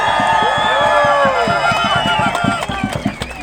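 A protest crowd in Canberra cheers and makes noise for First Nations people, a dense, sustained roar of voices with whoops and claps, while an amplified speaker talks over the din.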